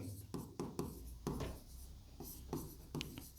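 Chalk or marker scratching on a classroom board during a chemistry lesson on sodium carbonate decahydrate, in a series of short strokes and taps with brief pauses between them, close and fairly quiet.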